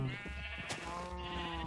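A Minecraft sheep gives a brief bleat, with a harmonic wavering cry at the start and again after the midpoint, heard over continuous in-game background sound.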